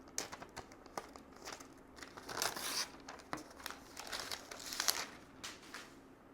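Protective film peeled off a new Apple iPad Pro M4 during unboxing, heard as soft, quiet crinkling and tearing that comes in uneven bursts over several seconds, with no talking.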